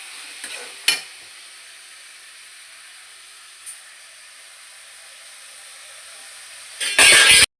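A faint, steady sizzle of tomatoes sautéing in a pan, with a couple of light clinks, then a brief loud burst of stirring at the end.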